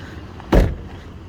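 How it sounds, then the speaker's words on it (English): A single short thunk as the hood release is pulled on a 2004 Chevy Silverado with a 5.3 V8, heard close inside the cab against a quiet background. "let me go pop that hood"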